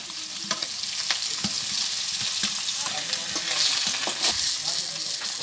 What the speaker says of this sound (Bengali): মাছগুলো কত সুন্দর করে ভাজা হচ্ছে